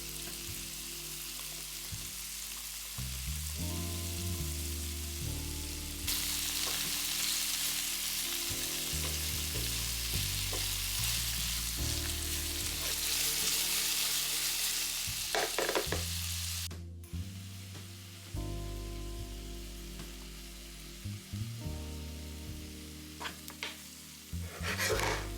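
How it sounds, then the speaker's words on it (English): Chopped garlic and then green onions sauté in a pan with vegetables, a steady sizzle rising and falling as ingredients are stirred, with faint tonal hum underneath and no voices. "You want to saute the garlic for about 1 minute"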